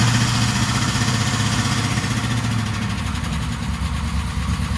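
A 1996 Chevrolet LT1 V8 running on an engine test stand with a Holley Terminator X system, idling in a steady loud rumble that holds even throughout, close up, with no talk.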